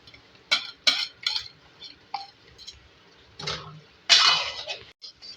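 Clinking and scraping of a spoon against a pan as bhuna aloo chicken liver curry is stirred, sharp metallic knocks coming in uneven bursts with quiet gaps between.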